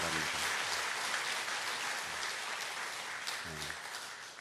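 A church congregation applauds a violinist from the Immanuel choir who is leaving to study in Germany, a steady wash of many hands clapping at moderate volume throughout, with faint low voices underneath.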